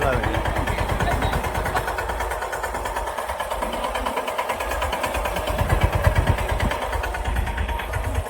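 A Captain mini tractor engine runs steadily during a demo on a farm, a continuous low rumbling idle with a throbbing beat, fairly close, with a slight rise near the end.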